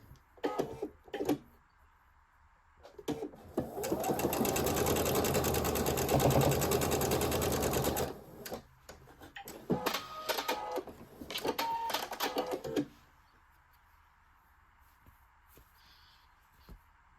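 A sewing machine stitches quilt pieces together for a Stronger Together quilt, starting with short taps, then running in a long continuous burst of several seconds, followed by stop-start stitching and clicks before falling quiet.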